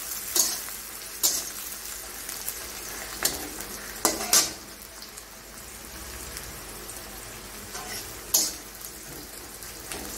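Potatoes and eggs fry in a pan for aloo egg curry, with a steady soft sizzle and several sharp spoon scrapes and stirring clatters spread across the clip, fairly close and with no talking.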